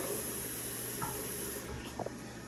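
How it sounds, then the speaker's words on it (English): Water runs steadily into a newly built home's drain as it is flushed, a continuous broadband hiss with a few brief splashy bursts near the end. "I'm gonna flush this in front of you just to show you it does not drain onto the floor"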